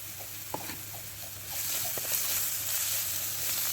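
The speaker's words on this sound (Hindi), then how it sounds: "मसाले को अच्छी तरह भून लिया।" Spice masala of turmeric and chilli frying in oil for a samosa filling gives a low, steady sizzle that swells slightly midway, with a few faint stirring taps, no voices.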